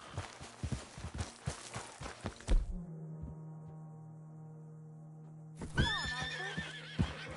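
A horse in the Red Dead Redemption 2 video game clops its hooves in a quick rhythm, a tonal hum follows, and then a loud, close whinny rings out near the end.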